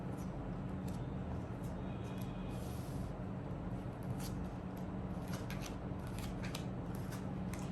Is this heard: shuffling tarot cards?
yes